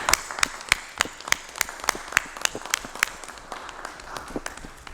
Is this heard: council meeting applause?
yes